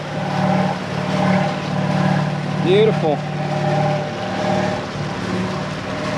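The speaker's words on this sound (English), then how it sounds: "Engine sounds very happy." Twin Mercury MerCruiser 8.1L big block engines idling steadily on a Sea Ray boat, a loud, even low rumble throughout with a brief higher chirp midway and a person speaking over it.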